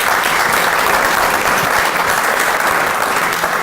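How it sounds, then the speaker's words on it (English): A conference audience gives a dense, even round of applause for a panel of speakers, loud and sustained throughout with no talking over it. "let's give a round of applause to our distinguished panelists"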